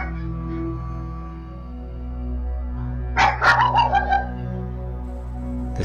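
Two dogs indoors give a short cluster of yips and barks midway, fairly close, set against a steady low background drone with no talking.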